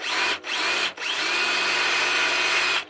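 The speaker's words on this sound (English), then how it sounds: "I'm going to do it with this drill bit to create a pilot hole." A power drill whines at high speed drilling a pilot hole in steel, briefly stopping twice before running steadily, then cutting off at the end.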